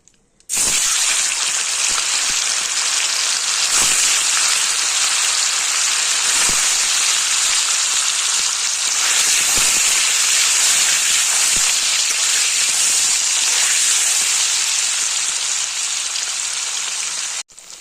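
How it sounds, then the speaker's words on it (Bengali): Cubes of paneer frying in hot oil with salt, a loud, steady hiss and crackle that runs on without a break, with a few sharper pops now and then, close up and without talk. "প্রথমে তেলের মধ্যে নুন দিয়ে পনিরটা ভেজে তুলব।"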